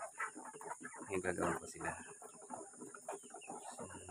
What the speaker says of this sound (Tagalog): So, yan, yung mga manok natin.